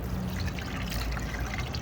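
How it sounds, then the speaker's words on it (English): Windshield washer fluid pours from a jug into a car's reservoir, a steady close gurgling trickle of liquid that runs continuously without pause. "you can take the windshield washer fluid and pour it in where it doesn't spill anywhere"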